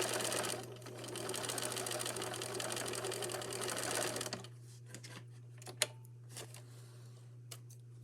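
Sewing machine stitching a side seam on a garment, a rapid, even whir for about four seconds that then stops, followed by quiet scattered clicks and handling noises.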